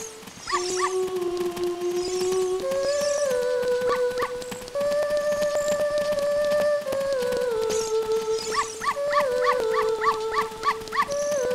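Several video game dogs in The Legend of Zelda: Ocarina of Time whimper and howl in long, drawn-out tones over a steady backdrop of game music, with yips breaking in toward the end.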